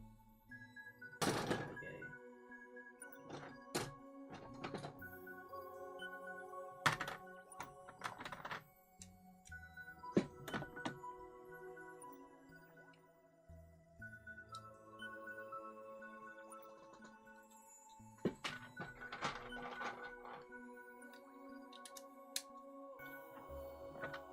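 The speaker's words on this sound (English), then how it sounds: "Hear it hitting, thumping the wall" Beyblade spinning tops knock and thump against the walls of a plastic stadium, producing irregular, sharp clicks and clattering hits that come in clusters, close and moderately loud throughout.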